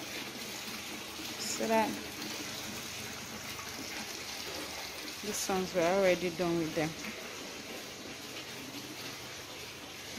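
Water running and splashing softly while tanks at a fish hatchery are refilled, a continuous trickling wash under a voice talking intermittently.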